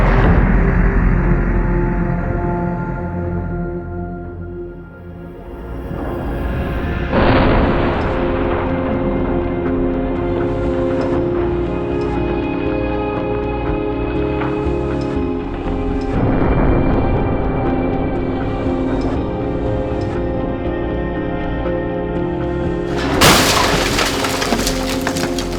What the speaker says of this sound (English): The test carried out at 56 kilometers an hour, the two of them crashing together.